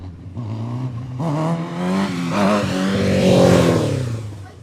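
A motorbike engine revs up repeatedly, its pitch climbing in several loud surges that build and hold near the end, close by and with no talking.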